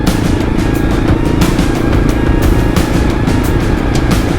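Kawasaki KLR 650 motorcycle riding on an open road, a loud, steady engine drone mixed with continuous wind rush throughout, with no talking.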